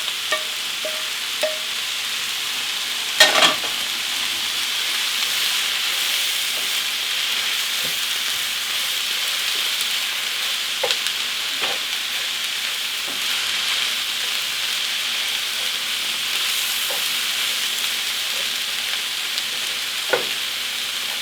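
Sausage and cabbage frying gently in a pan over lowered heat, a soft continuous sizzle broken by scattered clicks and scrapes of stirring, with no speech.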